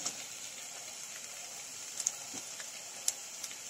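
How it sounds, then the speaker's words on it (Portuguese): Onion, garlic and pepper sauté in margarine in a pan, giving a faint, steady sizzle with occasional soft pops and crackles, quiet and close without talking. "eu tô refogando com manteiga, margarina na verdade"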